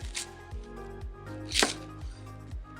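A knife slices a whole cauliflower head into steaks on a cutting board with about half a dozen crisp thuds at a steady pace. A sharper crunch lands midway, close up and with no talking.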